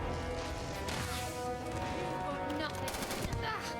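Rapid bursts of video game gunfire crackle densely and continuously during a firefight, loud and close with fast repeating shots, and a player's voice comes through in the mix.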